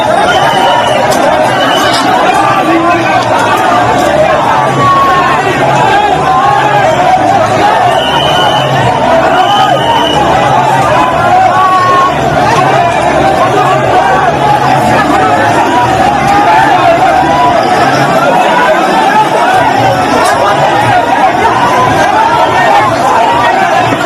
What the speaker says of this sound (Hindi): सावन का सोमवार था, भारी भीड़ थी, और उसके बाद धक्का मुक्की शुरू हो गई यहां